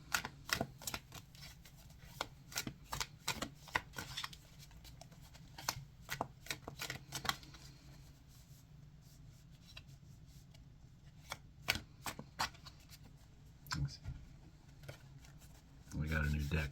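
A new deck of tarot cards being shuffled close by, with repeated crisp riffling bursts and soft flicks spread through the stretch, a voice speaking quietly underneath at times.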